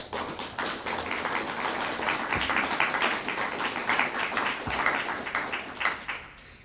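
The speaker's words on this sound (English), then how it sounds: "So cute clapping like that." A library audience claps after a poetry reading, dense steady applause of many hands lasting several seconds, close and fairly loud, thinning out at the end.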